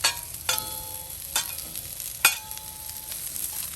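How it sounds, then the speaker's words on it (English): Steady frying sizzle of onions on a hot Blackstone griddle for Philly cheesesteak, with a few sharp scraping or stirring bursts cutting in at intervals. "Hear that sizzle?"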